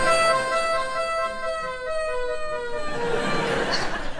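A voice imitating a British ambulance siren, a drawn-out harmonic wail that bends downward, loud and close, with crowd murmur rising toward the end.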